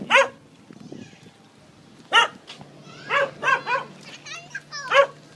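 A dog barks a handful of times at intervals, with sharp yips in between, while people talk in the background near a river in Olongapo, Philippines.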